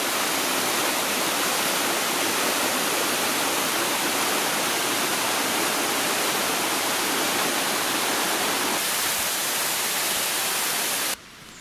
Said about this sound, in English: These are the final steps to Salto de Rocio waterfall.